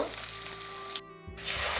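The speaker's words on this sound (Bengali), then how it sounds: "দিয়ে 2-3 মিনিট আমি এইভাবে নাড়াতে থাকি। পেঁয়াজগুলো দেখুন কালার চেঞ্জ হয়ে গেছে, পেঁয়াজগুলো ভাজা ভাজা হয়ে এসছে।" Onions fry and are stirred in a pan for chilli paneer, giving a brief, dense, close sizzle with a short dip partway through.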